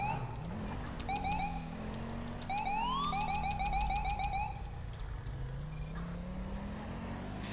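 Short police siren blips from a patrol car in GTA V with the LSPDFR mod, several quick rising whoops in two bursts over a constant engine and road rumble, fairly loud and close, with no talking.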